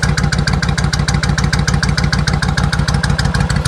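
A 2002 Suzuki Intruder VS1400 motorcycle with a baffleless exhaust idles nearby, loud and close, with a rapid, even, lumpy thump and clattering pulse throughout and no talking.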